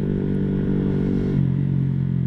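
A manual-clutch motorcycle engine drones loud and close while downshifting with rev matching, its steady tone shifting lower about halfway through, with no talk.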